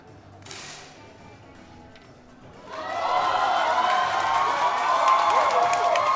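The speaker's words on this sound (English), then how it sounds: "Big cheer again" A spectator crowd at a men's 10m air pistol shooting final in Chengdu erupts into loud, sustained cheering and applause after a brief sharp shot sound, building and holding for several seconds.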